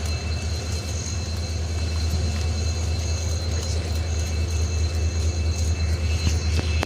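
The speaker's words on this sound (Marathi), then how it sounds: "जी ट्रेन गेली ती कुठची अशी पॅसेंजर ट्रेन नव्हती तर ती ना अशी गुड्स कॅरियर होती" A freight train rumbles past close by, with steady low rolling noise, rhythmic wheel clatter and faint squeals throughout.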